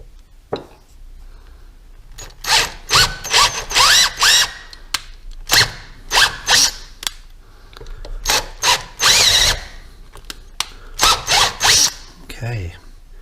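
Drill boring a hole into the engine casting of a Ducati 900SS bevel: a series of loud, close, whirring bursts of a second or less, broken by short pauses, with brief talk between bursts.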